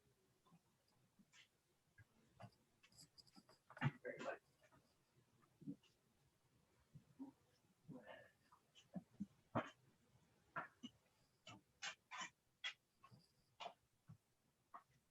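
A dog makes small whimpering and snuffling noises nearby, quiet and intermittent, with scattered short bursts over about fifteen seconds in an otherwise calm indoor setting.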